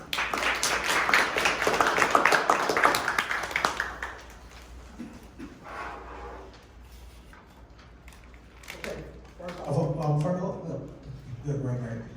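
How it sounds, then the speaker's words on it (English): An audience at a lunch-and-learn event gives a brisk round of applause that lasts about four seconds and fades out, followed by someone speaking into a microphone. "Let's give everyone a round of applause."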